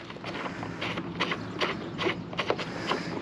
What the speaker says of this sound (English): We undo these nuts or bolts, I guess,